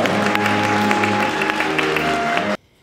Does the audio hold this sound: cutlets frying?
no